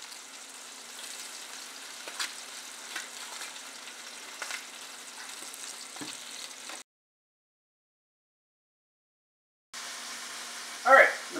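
Butter melting in a pan, a steady soft sizzle and crackle close by, briefly cut to silence partway before the sizzling returns.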